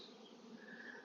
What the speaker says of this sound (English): Bees are on this.